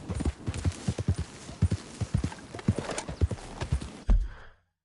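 Horse hooves clip-clop in a steady galloping rhythm in a Red Dead Redemption game scene, close and fairly loud, with a brief whinny near the end before the sound cuts off.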